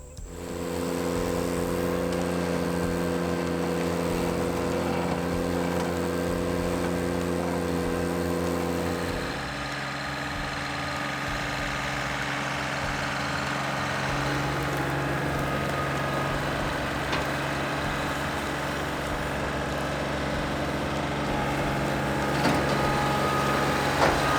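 A John Deere tractor drones steadily while brush cutting on a hillside, its engine note holding level throughout and shifting to a rougher, lower tone partway through, with no voices over it.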